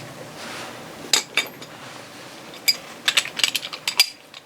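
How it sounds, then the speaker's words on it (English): A socket and ratchet wrench worked on a boat prop shaft carrier bearing during seal and O-ring replacement, giving sparse metallic ratchet clicks and clinks that bunch into a quicker run near the end over a faint background. "And I got a socket and a wrench here."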